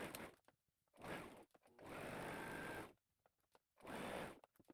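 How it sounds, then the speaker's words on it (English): A sewing machine stitching a sleeve on a top runs in three bursts of rapid, steady whirring and needle chatter, close and clear, separated by short pauses with faint handling noises. "I'm going to now stitch the other sleeve the same way we did the first one."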